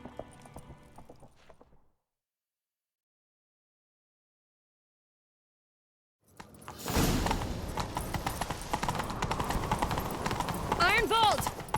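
In The Witcher 3, a horse gallops with rapid, rhythmic clip-clop hoofbeats that start after a stretch of silence and continue loudly, with game sounds and voices heard around it.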